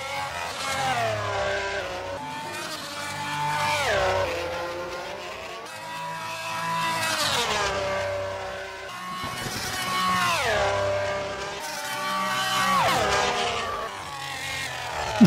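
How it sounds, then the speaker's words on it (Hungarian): A Honda-powered Formula 1 car in a racing video game screams through repeated high-revving shifts, its engine pitch rising and falling in waves alongside brief tire squeal, loud and continuous with no talk. "itt ennek a Honda motornak nincs olyan rossz hangja"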